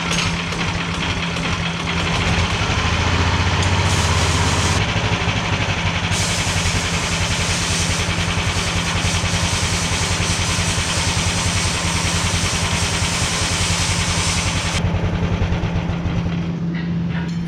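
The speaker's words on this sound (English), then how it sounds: "I'm gonna go ahead and start it up and see if I got it right." An 18 hp go-kart engine runs loud and close for the whole stretch, a steady buzzing idle with a strong low rumble. Its tone shifts slightly as the throttle is worked, and no one speaks.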